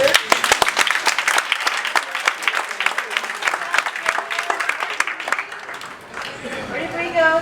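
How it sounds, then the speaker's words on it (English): A big round of applause for volunteers at a body-language session, with a crowd clapping loudly in sharp, dense claps that thin out toward the end as a voice begins to speak. "Let's give a big round of applause for my volunteers."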